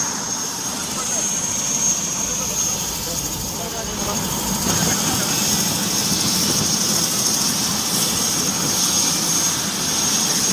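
A helicopter at a political gathering gives off a steady, loud engine and rotor roar that fills the whole stretch, with a voice talking over it.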